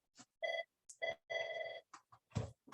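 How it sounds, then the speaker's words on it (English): An office telephone rings in a series of short electronic tones in irregular bursts, fairly close and moderately loud. "my office phone is ringing"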